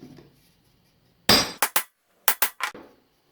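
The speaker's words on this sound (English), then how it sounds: "take your spur center and put it in the center, like so, and we're going to hammer it into place." Several sharp hammer blows drive a lathe spur center into wood up close: one heavy hit, a quick pair, then a fast run of four, with short silences between.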